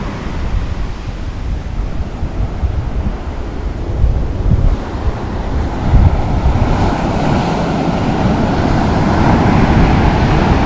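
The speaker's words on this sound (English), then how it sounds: "Just watch the waves. Listen to it." Steady roar of ocean waves breaking and washing ashore in Cabo, with gusty wind buffeting the microphone throughout.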